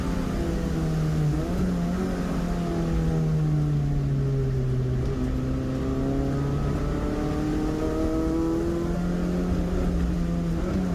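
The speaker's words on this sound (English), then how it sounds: "Pop the clutch there to try and get traction, get some go out of that hairpin" A saloon race car on semi-slick tyres revs hard out of a wet hairpin during a clubmans saloon series race, its engine note climbing and falling through a gear change, loud and close with steady road noise.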